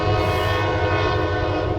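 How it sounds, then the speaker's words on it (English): A train rumbles past at Wildwood with its horn blaring loudly and steadily the whole time over deep rolling rail noise, close and dominant. "Excuse the train, that's just a part of everyday life here at Wildwood."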